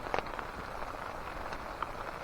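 Rain falls on a tent at night during winter camping after a snowstorm, a soft, steady patter with a few sharper drops landing close by. It is quiet and continuous, with no talking.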